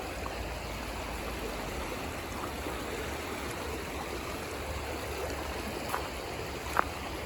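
A park stream flows close by with a steady broadband rush and gurgle of water. A couple of faint clicks come near the end, and no one speaks.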